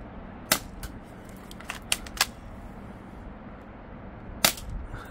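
A spring-powered airsoft rifle fires in sharp, isolated snaps, with one early shot, a few lighter clicks in the middle and another crisp shot near the end, all close against a quiet background.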